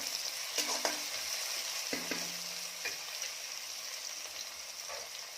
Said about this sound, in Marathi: आता यामध्ये मी टाकत आहे टोमॅटो टोमॅटो छान लालसर करून घेऊया